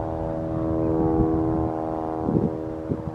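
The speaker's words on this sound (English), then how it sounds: "all of a sudden I hear a loud engine. Looks like one's about to land." A floatplane's engine drones as it approaches to land at Lake Hood, Alaska, a steady low harmonic hum heard from a distance with faint breezy background noise.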